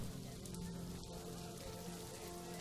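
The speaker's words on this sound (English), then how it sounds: "this rain is coming down real hard." Heavy rain pours down in the zoo-building video game Planet Zoo, a steady dense hiss of falling water that fills the whole stretch without pause or change.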